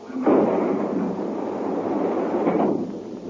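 A submarine firing a torpedo gives a loud, deep rumbling whoosh that starts abruptly and holds for about two and a half seconds, swelling slightly before it fades, with no voices.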